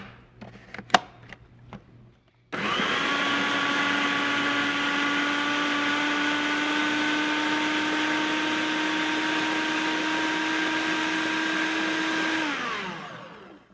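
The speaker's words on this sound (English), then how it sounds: "So, we're going to blend that." A blender purees gazpacho of cantaloupe, cucumber and cayenne pepper, starting after a few faint clicks and then running as a steady, loud, even whir for about eleven seconds before winding down.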